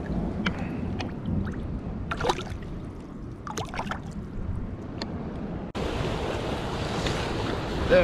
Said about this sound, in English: Starting to fill up the rock pool.